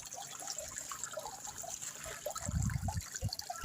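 Spring water trickles and splashes out of a village spring into a small dug trench, a soft continuous babble that swells into fuller gushing bursts toward the end, close but fairly quiet.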